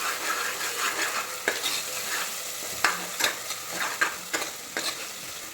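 Ground masala frying in a pan while being stirred, a steady close sizzle broken by repeated scraping strokes of a spoon against the pan, with no voices.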